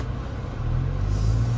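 A 2021 Hyundai Veloster hatchback drives along, its engine a steady low hum heard from inside that rises slightly in level partway through.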